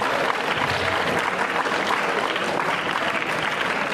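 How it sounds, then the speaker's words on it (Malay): Sustained applause from an audience at a religious lecture, dense and steady clapping filling the whole stretch at moderate loudness with no speech over it. "tepuk tangan untuk kamu."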